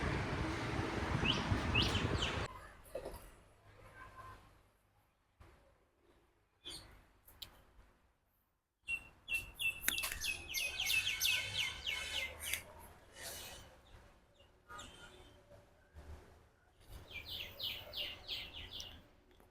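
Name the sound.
chickens and birds calling near a temple at dawn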